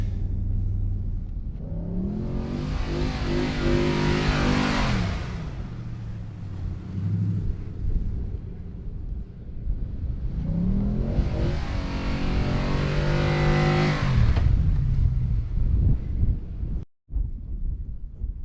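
A KTM 500 dirt bike climbing sand dunes, its engine revving up in two long rising pulls with a pause between, loud and close, with wind buffeting the microphone throughout.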